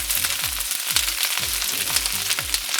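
Carrots and snow peas stir-frying in a pot, a steady loud sizzle with rhythmic scraping stirs repeating about every half second, close and without voices.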